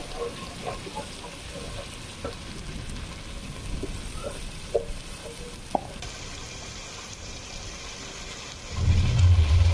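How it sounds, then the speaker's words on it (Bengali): Spice paste mixed with nut paste and poppy seed paste fries in a pan for a chicken roast, a low, steady sizzle with a few faint clicks, then a louder burst of rumbling noise near the end. "দিয়ে এখন ভুনে নিচ্ছি"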